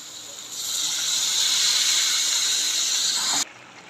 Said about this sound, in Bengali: ভাজাতে হয়ে গেছে, এখন জল দিয়ে দেবো